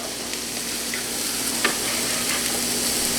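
Peppers hit a hot pan and sizzle steadily while orzo is being cooked, with a continuous crackling hiss and a few soft stirring scrapes close by.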